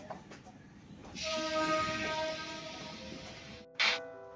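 A suburban train running from Dakshineswar toward Janai Road rolls along with a rising rumble and metallic screech, steady clatter underneath, and a short sharp squeal near the end.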